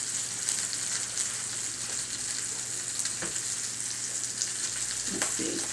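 Sausages, peppers and onions sizzle steadily in a hot pan, a close, continuous frying hiss with occasional stirring clicks.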